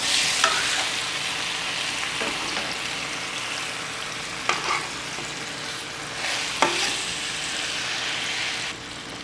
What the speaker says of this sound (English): After 5 minutes cooking on one side, I'm going to turn the salmon.